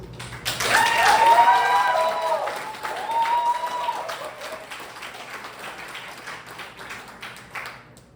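An audience claps for a school board candidate at a county candidate forum, with moderate applause under a voice and some musical tones that fades gradually toward a few scattered claps.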